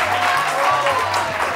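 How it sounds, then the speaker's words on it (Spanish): Studio audience applause on a Spanish TV variety show, a steady dense wash of clapping that fills the whole short stretch at an even, moderately loud level, with faint voices underneath. "si ustedes van a aplaudir,"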